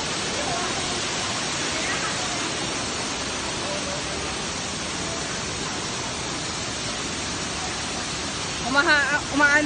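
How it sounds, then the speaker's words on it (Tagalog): Steady, loud rush of a waterfall near Bird Paradise, a broad continuous roar filling the whole scene, with a brief burst of voices breaking in near the end. "waterfall ng Manday"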